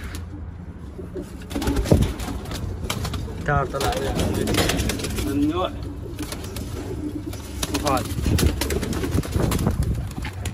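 Soft pigeon coos rise and fall at intervals, close by, mixed with someone talking and some handling noise.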